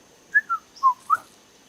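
A person whistles an imitation of the African emerald cuckoo's call in a nature park: four clear, close, tonal notes in quick succession, the last rising slightly, over a quiet background with no talking.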